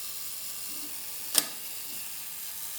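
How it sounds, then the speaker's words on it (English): A Zenit 3M film camera's shutter fires once on self-timer, a single short crisp mechanical click standing alone against faint room hiss. "And that was the shutter."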